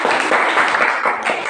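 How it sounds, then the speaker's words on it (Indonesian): Students in a classroom clap together during a lesson, a short, fairly dense burst of applause from a small group that stays even and close throughout. "Oke, tepuk tangan nak."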